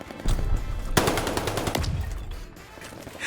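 Rapid bursts of automatic gunfire in the video game Call of Duty: Vanguard, loud and close, with a sustained rattling volley in the middle before tapering off.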